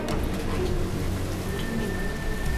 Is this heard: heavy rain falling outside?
yes